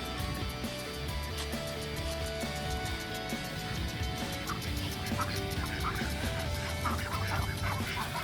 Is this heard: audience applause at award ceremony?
no